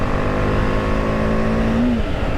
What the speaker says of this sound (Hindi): ऐसे हार्ड थ्रॉटल करते हैं